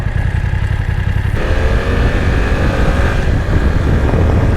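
A BMW loaner motorcycle rides along with a steady, loud engine drone and constant wind and road roar, the engine note holding nearly level throughout.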